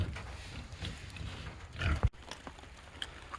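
Pigs on a farm raised for slaughter, giving low grunts and oinks that cluster into a louder burst near the middle, then fall back to quieter, scattered snorts.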